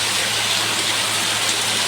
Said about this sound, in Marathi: सगळ्या रस्त्याने असं पाणी वाहतं भरपूर मोठा असा पाऊस आला